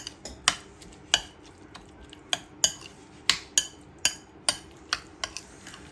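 A spoon mixes thick, unsour curd into chopped onion and coriander in a bowl, giving a series of a dozen or so sharp clinks and taps against the dish at an uneven rhythm, close and fairly quiet, with no talking.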